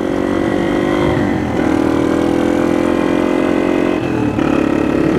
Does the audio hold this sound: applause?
no